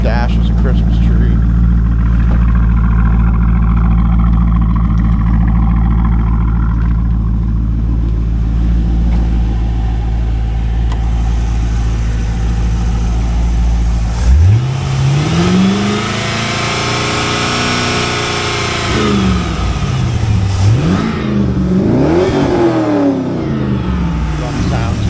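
A 2002 Chevrolet Corvette C5 with an LS1 V8 runs at a steady loud idle, then revs up in several rising and falling sweeps, close to the listener, with speech around it.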